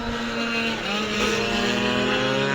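Racing scooter engines, including a Lambretta, drone and whine past during a stock scooter race at Lydden Hill, a sustained buzzing, slightly rising tone from several machines at moderate distance.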